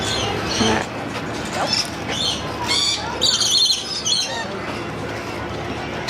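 Birds in a nectar-feeding exhibit at the Kansas City Zoo squawk and chirp nearby, with bright, scattered calls that rise over a busy background murmur.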